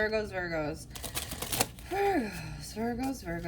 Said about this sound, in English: I need to give it a good shuffle.